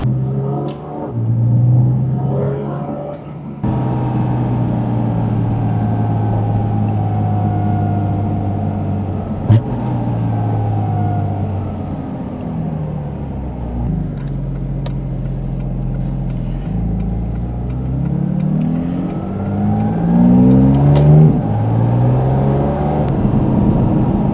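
Interior of a Porsche GT4 RS on the move, its engine droning and rising through revs in long sustained waves with shifts between them, loud and continuous throughout.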